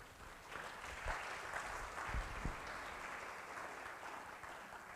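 An audience claps steadily for several seconds to welcome the panelists at a panel discussion. The applause is moderately distant and even, with a few sharper claps standing out.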